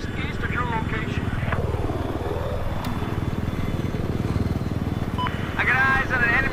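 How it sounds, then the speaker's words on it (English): An enemy helicopter flies overhead in a combat video game, its steady rotor thump and engine drone sweeping past loud and close, with radio-style voices calling out over it. "I spotted an enemy helicopter!"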